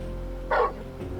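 A single short bark from Torgal, the dog companion in Final Fantasy 16, sounding once clearly over a low steady game background hum.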